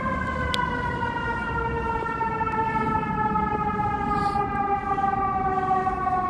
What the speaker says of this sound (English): So it's an ambulance coming out here.